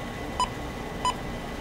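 Two short, clear electronic beeps from an oven control panel sound about half a second apart as the timer is set, crisp and close over a faint background hum.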